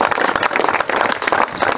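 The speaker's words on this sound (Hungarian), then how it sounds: "szeretnék egy nagy tapsot az ügyvéd úrnak" A short burst of lively applause from a crowd at an outdoor watchtower inauguration, many people clapping quickly and close.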